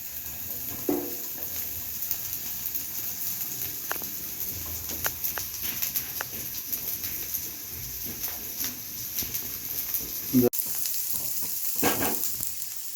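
Onions frying in a pan for Indian-style sautéed vegetables, a steady close sizzle running throughout with scattered crackles and a few brief stirring knocks near the end.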